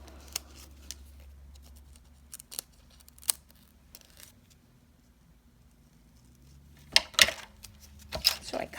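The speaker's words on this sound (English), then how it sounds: "this is actually obviously too big, so I'm actually going to cut that feather down." Scissors trim a decorative feather for a foiled leopard-print side hat in a few crisp, close snips scattered over a quiet room. A soft voice speaks in between the cuts.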